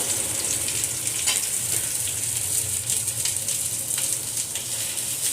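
Okra frying in coconut oil in a pan, a steady hissing sizzle that holds even and moderately loud throughout with faint crackles on top.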